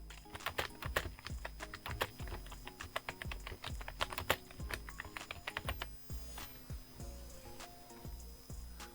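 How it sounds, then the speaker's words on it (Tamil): Rapid, steady clicking of someone typing a short phrase on a computer keyboard, keys struck in quick uneven bursts, fairly quiet and close with no talk. "இப்போ நான் அந்த கம்ப்யூட்டர்ஸ் டேட்டா ப்ராசஸிங் மிஷினே நான் டைப் பண்ணுறேனே"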